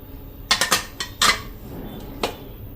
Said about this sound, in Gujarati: ચમચો હોય કે ચમચી હોય કે કાંટો હોય એ બધા તમારે આ રીતે વાસણને ઊંધા વાળી દેવાના છે